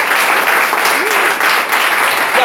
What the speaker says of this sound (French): Applaudissez pour notre frère.